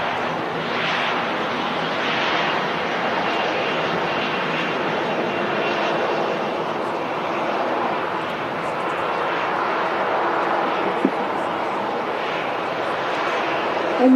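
A TUI Fly Boeing 737-800 airliner in all-blue livery at Manchester Airport produces a steady, broad engine roar that holds at an even, fairly loud level throughout.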